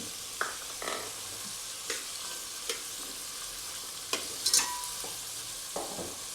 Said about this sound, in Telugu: దీంట్లో వెల్లుల్లిపాయలు అంటే అందుకే వెల్లుల్లిపాయలు పొట్టు తీసినవి కొన్ని వేసుకుంటున్నాను